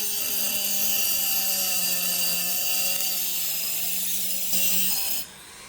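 A broken clock mainspring being cut off with a tool, a loud continuous grinding whine with droning tones for about five seconds, then stopping abruptly.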